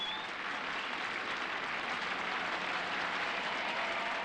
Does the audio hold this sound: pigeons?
no